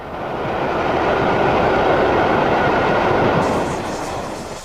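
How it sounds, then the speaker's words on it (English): A northbound milk train carrying milk churns in a full brake van rolls past behind a Castle-class steam locomotive, a loud continuous rumble of wheels and wagons that swells and fades slightly. "A milk train heads north behind a castle."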